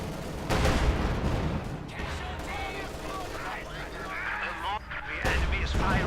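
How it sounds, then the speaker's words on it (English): StuG assault gun shelling in a Company of Heroes 2 match, with repeated heavy artillery blasts and explosions rumbling under continuous commentary. "And they're going before getting bombarded here by the Sturmgeschütz, getting bombarded."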